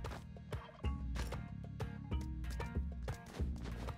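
A turkey gobbles in the video game Spelunky 2, several bursts standing out loudly over a busy, rhythmic game soundtrack with no talking.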